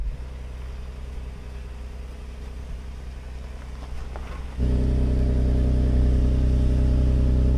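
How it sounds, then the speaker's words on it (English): An SUV engine idles and labours at low speed off-road with throttle and brakes applied together, a steady mechanical drone that jumps to a louder, deeper sustained hum partway through. "What I'm doing is applying throttle while also using the brakes"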